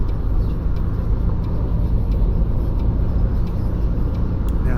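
Road traffic around a coach in the Fernbus Coach Simulator game, a steady close rumble of vehicle engines and tyre noise that holds evenly throughout with no talk over it.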